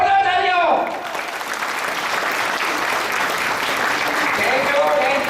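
Loud, sustained applause from a seminar audience in Kamrej, Surat, a dense continuous clapping wash after a brief spoken introduction, with a voice returning faintly at the end.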